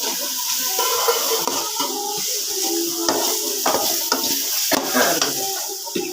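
Egg rice masala with coriander powder frying in a pan, a steady close sizzle under repeated scraping and stirring strokes of a utensil against the pan, no talk.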